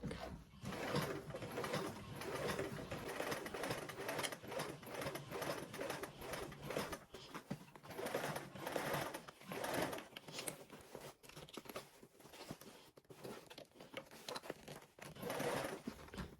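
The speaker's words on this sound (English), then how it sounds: "we're gonna go ahead and stitch along the lines that we made on the exterior of our fabric" A sewing machine stitches along marked lines on the exterior fabric of a turned inside-out bag, a steady busy whirr running the whole time with rustling fabric handling and brief pauses, fairly quiet and close.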